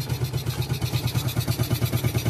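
A Yamaha Vega ZR 115 motorcycle with a freshly repaired carburetor idles close by, its small single-cylinder engine putting out an even, rapid, steady putter.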